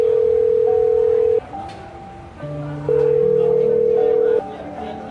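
Telephone dialing tones sound alone as a call is placed to a family after a hospital accident: steady sustained tones in a shifting stepped sequence, some long and some shorter, fairly loud and clear.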